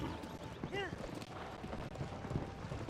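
Horse hooves clop steadily in Zelda: Tears of the Kingdom, a soft, continuous trotting rhythm sitting low under game music and a talking voice.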